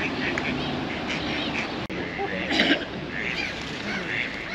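Ducks by a river at Wareham quack in short bursts at close range, mixed with outdoor background noise and some soft voices.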